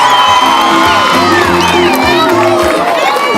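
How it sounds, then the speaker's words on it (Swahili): Crowd at a primary school classroom commissioning event cheering and whooping, with children shouting. The noise is loud and continuous and fills the whole span, with no separate speech over it. "Makofi tafadhali."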